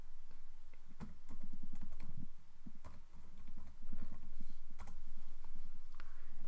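Steady, rapid typing on a computer keyboard while entering a search into a web browser, with dense, close clicks continuing almost without pause over a constant background hum.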